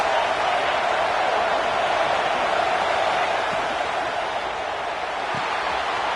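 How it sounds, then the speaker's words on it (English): Crowd noise at a college football game between Notre Dame and Clemson, a dense, continuous stadium roar filling the air at steady volume without breaks. "This crowd trying to make life miserable for this offense."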